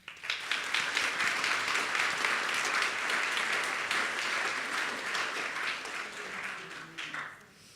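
A theater audience at a storytelling night bursts into sustained, dense applause as a speaker is welcomed to the stage, loud and steady for several seconds before tapering off.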